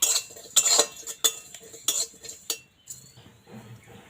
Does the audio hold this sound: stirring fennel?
yes